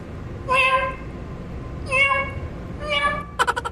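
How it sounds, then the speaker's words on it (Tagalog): A cat meows three times, evenly spaced and clearly heard, followed by a quick burst of other sound at the end. "May pusa ah."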